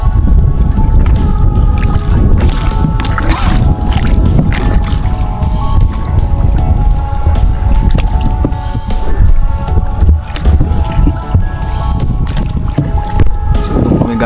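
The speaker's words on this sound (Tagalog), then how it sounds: "Bugsay lang kami, bugsay or sagwan guys, gamit." A small boat is paddled with oars against a strong wind, with rough wind buffeting the microphone, splashing water and irregular paddle strokes filling the whole stretch.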